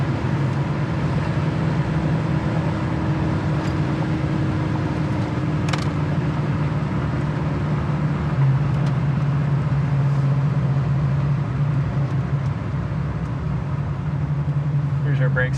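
A 1974 Chevy Camaro cruises down the road at steady speed, with a constant low engine drone and road rumble filling the cabin, broken by a couple of faint clicks.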